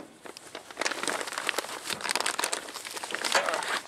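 Plastic packaging around toilet paper from a small first aid kit crinkles continuously for about four seconds, close and fairly loud, with steady rustling and crackling throughout and no voices.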